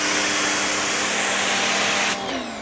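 A GreenWorks electric pressure washer runs loud and steady with a constant high-pitched whine and hiss, then cuts off abruptly near the end, leaving a lower, fading hum.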